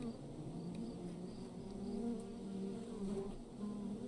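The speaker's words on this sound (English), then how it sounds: "A sweet honeycomb fell out of the broken beehive and a whole swarm of bees flew out." A swarm of bees from a broken beehive buzzes in a continuous droning hum, fairly faint and steady with slight swells, heard alone without talk.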